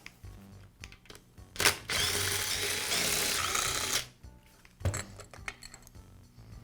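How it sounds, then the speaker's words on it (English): Power driver backing out screws from a Porter Cable compressor head assembly, heard as a close whirring burst of about two seconds, with clinks and small metal handling noises before and after. "Now I'll remove the 4 screws that secure the head assembly to the cylinder."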